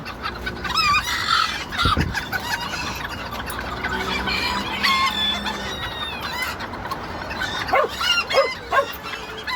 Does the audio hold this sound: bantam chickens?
yes